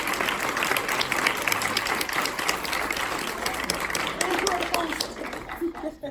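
Audience applause for a psychedelics discussion panel: sustained clapping from a small crowd, fairly loud and even, tapering off near the end as a few voices and scattered claps remain.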